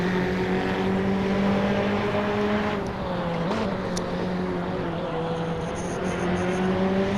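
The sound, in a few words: race cars driving on a track in a racing video game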